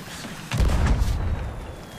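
A cannon fires from a rowboat in the pirate video game Sea of Thieves, one heavy booming blast that hits suddenly and then rumbles away over the next second and a half.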